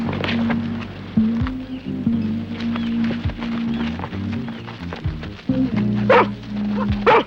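A dog barks in sharp, repeated bursts, loud and close, during a tense outdoor scene from a 1970s children's adventure series. Some brief speech and scuffling mix with the barks.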